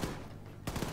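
Rapid machine gun fire in the Wolfenstein 2 shooter, fired by a character in a wheelchair, a dense rattling burst that dips briefly and then surges again, filling the whole second.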